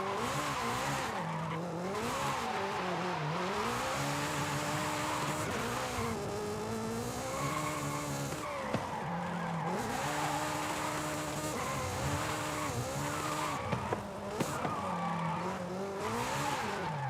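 Car drifting in the racing video game Forza, a continuous loud engine note rising and falling with long tire squeals and skids through repeated slides.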